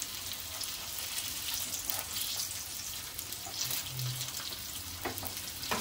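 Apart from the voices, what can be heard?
hara bhara kebabs shallow frying in oil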